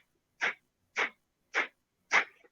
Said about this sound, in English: The other one, which is called the breath of fire,